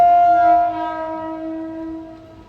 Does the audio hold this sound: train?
yes